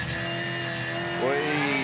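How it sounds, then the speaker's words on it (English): Supercars race car engine braking on the approach to turn 1 at Sandown, a brief loud engine note with sharp downshift blips as revs swoop down and back up, near and alone. "he uses a lot of engine braking to try and slow it up"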